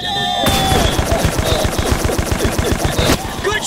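Rapid automatic gunfire in the Rogue Trooper Redux video game, a loud sustained burst of evenly spaced shots for about three seconds, with a voice and sci-fi tones before it.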